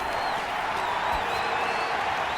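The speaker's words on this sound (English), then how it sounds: "the crowd getting into it as we come up on a big third down" A stadium crowd in the Madden 21 football video game roars in a continuous, steady wash of cheering and applause ahead of a big third down, with faint whistles rising above it.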